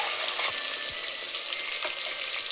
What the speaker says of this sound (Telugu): ఇప్పుడు ఇందులో అయితే టమాటా ముక్కలు వేస్తున్నాను, ఇంకా గ్రీన్ చిల్లీ